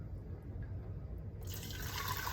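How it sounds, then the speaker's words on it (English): Chicken broth strained of celery and onion is poured back into a pan, a quiet liquid trickle that swells into a brighter, steadier splash partway through, close by with no talk. "And that broth is going to go back in the pan."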